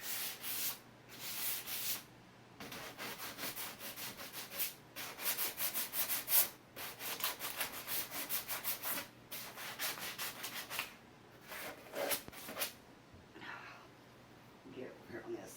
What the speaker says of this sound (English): And then I'll put some clear wax on it.